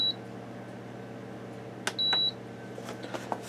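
A Power XL Air Fryer Grill Combo cooker beeps as it is switched to its simmer setting: a short tone, then a longer steady beep, followed by soft button clicks over a low appliance hum.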